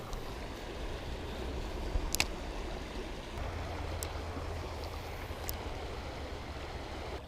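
A creek rushes and burbles steadily in a continuous outdoor wash, with a few faint clicks, and no one speaks.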